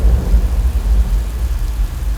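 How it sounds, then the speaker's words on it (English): Artificial rain pours from sprinklers mounted atop posts and poles on the Universal studio tour, a steady, loud, broadband hiss and rumble of falling water, continuous throughout with no talk. "The rain comes from sprinklers at the tops of the posts and poles."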